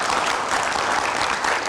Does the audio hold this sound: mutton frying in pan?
no